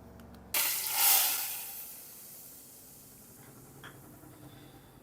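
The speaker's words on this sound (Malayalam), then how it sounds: "കടുകും താളിച്ചെടുത്തേ" Mustard seeds spit and sizzle in a hot pan during tempering, a bright burst of hissing crackle that swells quickly and then fades to a softer fizz, with no talking.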